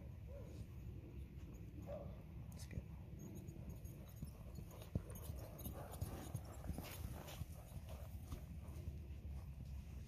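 Steady clip-clop of a former racehorse's hooves at an even trotting rhythm under tack, moderately close, with faint background noise and an occasional dog sound.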